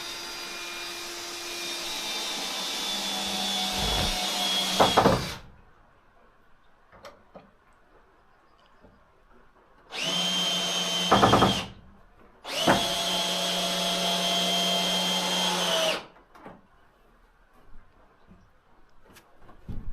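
A power drill drives screws into a wooden shelf on a farm, with three loud whirring bursts of several seconds each separated by quiet pauses with faint clicks and knocks.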